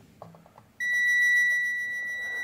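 A multimeter on its continuity setting sounds a steady, loud electronic beep as its probes touch a pin of an IC on a weight scale PCB. The beep starts abruptly after faint handling clicks and then holds without a break.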